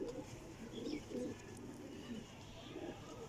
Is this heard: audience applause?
no